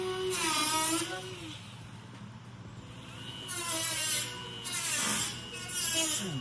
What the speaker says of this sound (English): when it comes to cutting the hood so that his pipe cut can show up, he uses the cutoff wheel